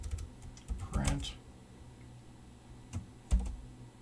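A computer keyboard is typed on in quick clusters of light clicks and taps, fairly faint, with pauses and a couple of sharper keystrokes.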